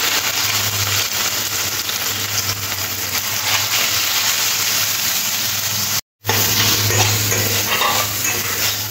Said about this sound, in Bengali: নুন আর হলুদ মাখা চিংড়ি মাছগুলো তেলের মধ্যে দিয়ে একটু হালকা করে ভেজে নেব।